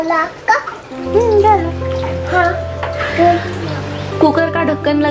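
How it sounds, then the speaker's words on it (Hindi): Hot water pours steadily into a pot of aloo matar pulao rice with a soft rushing sound while voices talk over it. "अब हमें इसमें गर्म पानी ऐड करना है।"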